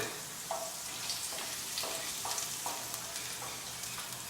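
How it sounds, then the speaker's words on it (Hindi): Whole spices with cloves and black pepper lightly frying in a pan, a soft, continuous sizzle with occasional stirring scrapes, close but fairly quiet, and no talk. "इन सब चीज़ों को फ्राई कर लेते हैं हम हल्के से, लगभग आधा से 1 मिनट।"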